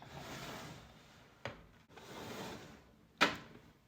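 A makeup drawer holding bronzers slides open with a long wooden rub, then a short knock, another slow scraping slide and a sharp clack at the end, close and fairly quiet.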